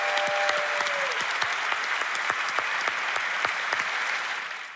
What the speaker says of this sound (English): So if we could all give a round of applause to Gary O'Reilly.